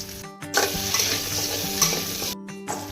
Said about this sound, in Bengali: এবার মিষ্টি কুমড়ো ভেজে নিব।